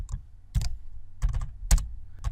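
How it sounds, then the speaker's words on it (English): Someone types on a computer keyboard in a few quick, separate bursts of close clacking keystrokes, with short quiet gaps between them. "start typing the name of that file and tab to get the complete file name"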